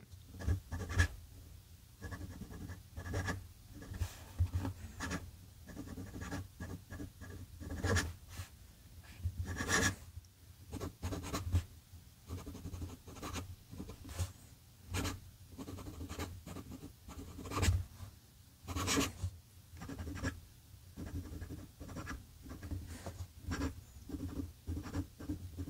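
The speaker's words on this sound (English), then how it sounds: "if I could have a nib that writes like this one does on here" A Visconti Homo Sapiens fountain pen nib scratches across paper in short, irregular strokes, quiet and close, with brief pauses between the marks.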